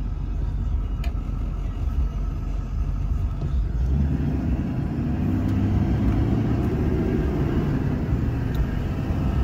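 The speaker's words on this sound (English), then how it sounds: "Allison transmission, of course, shifts through the gears just fine" Steady road rumble and diesel drone from a 2003 Chevrolet Duramax LB7 3500 dually 4x4 pickup with an Allison transmission, heard from inside while driving, with a low engine tone that swells midway as it pulls through the gears.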